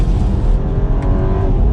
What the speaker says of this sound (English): The revs get a little bit louder as well. Going down to 2nd gear around this turn.